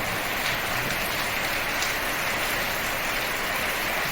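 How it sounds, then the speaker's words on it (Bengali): Heavy nighttime rain hisses constantly over surfaces, a thick unbroken roar of drops that stays level from start to finish, with no talking. "দেখেন কি সুন্দর বৃষ্টি হচ্ছে।"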